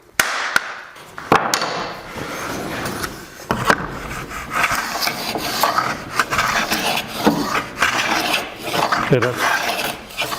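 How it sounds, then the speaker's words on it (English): A wooden hand plane takes very thin shavings from a wooden workpiece, giving repeated close rasping strokes with brief knocks between passes; a voice speaks a word at the start. "that's a very thin shaving now"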